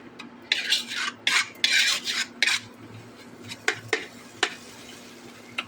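Masala spices fried in a pan, with repeated metal utensil scrapes and clinks as the mixture is stirred, a soft sizzle underneath, loud in bursts and then sparser.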